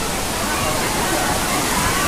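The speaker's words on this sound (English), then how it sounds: "this water comes from the mountain and it's ice cold" Ice-cold mountain spring water flows steadily near hot springs in Naga City, Philippines, a constant rushing wash of water heard close and loud, with a voice faintly under it.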